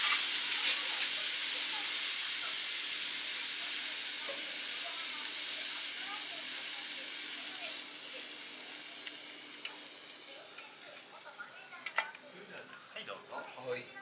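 Oil-yaki sizzles loudly on a teppan griddle at an Osaka restaurant, a dense steady hiss that slowly fades, with clinks of utensils and brief talk toward the end.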